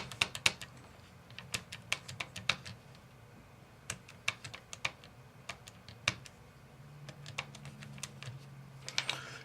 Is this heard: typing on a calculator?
yes